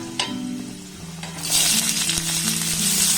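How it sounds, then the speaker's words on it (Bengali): Garlic, onion and green chili frying in hot oil, starting quietly and then breaking into a loud, steady sizzle with a few stirring knocks, heard up close. "নাড়াচাড়া করে আমি ভেজে নেবো পেঁয়াজটাকে"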